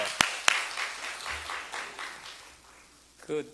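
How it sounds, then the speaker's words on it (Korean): An audience claps hands at a Thanksgiving campaign gathering: two sharp single claps, then a series of rhythmic clapping bursts that fade out, ending with a short voice. "우리 박수 한번 마십시다"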